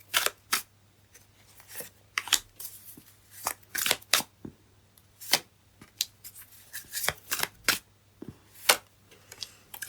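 Tarot cards shuffled and dealt into piles: a run of crisp, separate card snaps and flicks in irregular bursts, close and fairly quiet against a low steady hum, with no talking.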